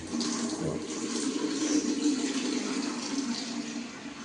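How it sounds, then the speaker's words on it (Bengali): Tap water runs steadily into a container at home, a continuous mid-level rushing splash with no talking. "জল এসে গেছে, আমি একটু জলটাও ভরে নিচ্ছি"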